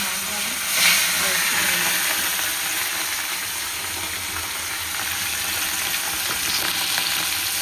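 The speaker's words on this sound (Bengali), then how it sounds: "এখানে মাছটা ভাজা হচ্ছে" Fish frying in a pan in a home kitchen, a steady close hiss and sizzle of hot oil running the whole time with faint crackles, a brief louder burst near the start and some muffled background noise.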